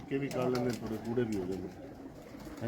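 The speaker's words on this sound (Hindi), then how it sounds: "ये बिल्कुल फिट कबूतर खड़े हैं इस वक्त।" Pigeons cooing in a fancier's loft of flying birds, low, throaty rolling coos close by, mixed with a voice talking over them throughout.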